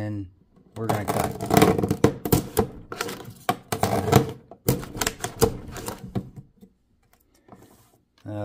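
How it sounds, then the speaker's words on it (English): A paper cutter blade slices through paper sheets for a model building. The crisp, crunching cuts come in dense bursts at close range, then a quiet pause. "With the blade of the paper cutter. And we're going to cut."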